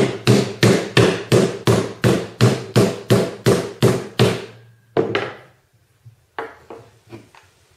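Mallet tapping a part on a remote launcher kit during assembly, a quick run of about a dozen sharp, evenly spaced knocks up close, then a pause and a few softer scattered taps.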